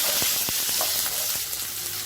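Tomatoes, shallots, red chillies and cashews frying in a pan give a continuous dense sizzle with a few faint stirring knocks, close and steady.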